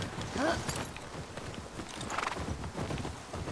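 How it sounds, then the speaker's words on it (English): Hooves of a horse clip-clopping steadily nearby in The Last of Us Part II, joined by a brief whinny early on, with a low game ambience underneath and no talk. "Okay, the horse is following us."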